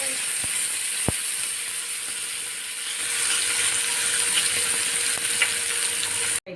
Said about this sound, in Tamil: அதுக்கப்புறமா ஒரு தவாவில் போட்டு வறுத்துருங்க